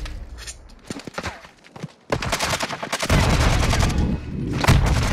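Video game gunfire erupts in rapid bursts, first scattered shots, then dense sustained firing and explosions, loud and close.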